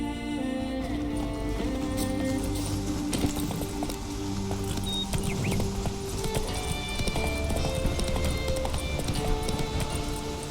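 A horse galloping in The Witcher 3: Wild Hunt on PC, steady clip-clop of hooves running continuously under a layer of game music and ambient sound.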